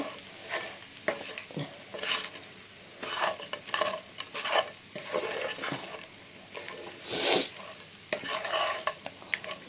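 Leftover idli tossed with puliyogare powder is stirred in a hot pan, with repeated scraping strokes of a spatula against the metal over a soft sizzle, close up and without talk.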